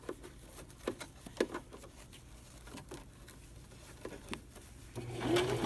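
A domestic sewing machine stitches pleated fabric, a soft rapid patter that comes in short bursts with pauses, moderately near, then gives way to a steadier run at the end.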